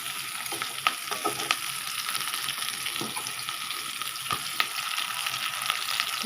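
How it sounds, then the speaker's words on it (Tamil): Spinach and onions sautéing in a pan give a constant, fairly close hiss with faint crackles and a few sharp ticks, steady from start to finish. "நல்லா வெங்காயம் வதங்கிடுச்சு."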